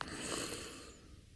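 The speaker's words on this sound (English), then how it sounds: "Banjo snores so it ranks lower than it could have." Banjo's sleeping voice clip in Smash Ultimate is a short, soft, breathy snore that fades out over about a second.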